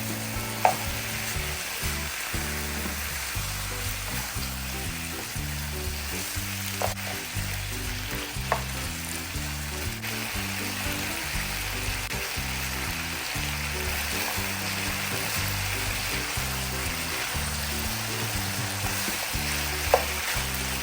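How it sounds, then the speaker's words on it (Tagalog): Pork adobo with bay leaves sautéing in a pan, a steady dense sizzle and crackle running throughout with occasional stirring clatter, close and fairly loud, with no talking. "Kung bagay gigisahin ko din lamang ng bahagya aring ating mga pinaglalagay na"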